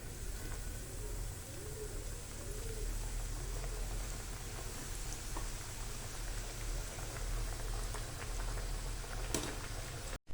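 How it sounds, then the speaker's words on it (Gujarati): Muthiya dough balls deep-frying in hot oil for churma ladu give a steady, dense crackling sizzle that holds evenly throughout, close by and with no talking. "હવે આ મૂઠિયા તળાય છે"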